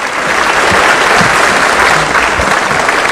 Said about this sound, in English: President William Samoei Ruto, with a round of applause as he comes.